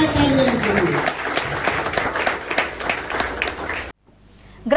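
Audience claps for a newly appointed district president at a news event: a loud, dense burst of applause with voices mixed in, cutting off abruptly near the end before a faint new sound begins.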